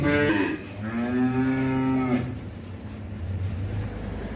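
A ten-month-old Holstein Friesian heifer calf gives one loud, drawn-out moo up close, lasting about two seconds, followed by low farmyard background noise.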